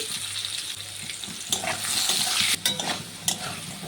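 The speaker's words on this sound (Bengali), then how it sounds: "আলুটাকে একটু ভালো করে ভেজে নেব দেব সামান্য একটু হলুদ গুঁড়ো দেবো সামান্য একটু নুন" Potatoes fry in oil left from frying fish, with turmeric and salt added, a loud close sizzle broken by scraping stirs and brief clatters of the spatula against the pan.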